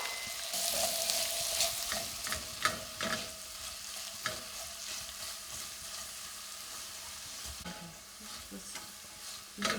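Onions sizzle steadily in a hot pan for beef stroganoff, a bright crackling hiss with occasional stirring scrapes, heard up close and on its own.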